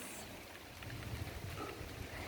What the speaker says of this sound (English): it's raining. You can see there. I can't show you now, it is raining.